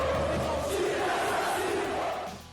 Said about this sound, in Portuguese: torcedores do Fluminense entoaram um grito em alusão à tragédia do Ninho do Urubu